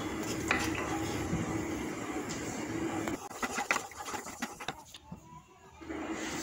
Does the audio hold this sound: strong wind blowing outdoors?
no